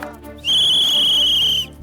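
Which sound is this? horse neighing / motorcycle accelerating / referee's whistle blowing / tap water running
referee's whistle blowing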